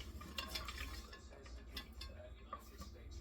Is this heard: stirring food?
yes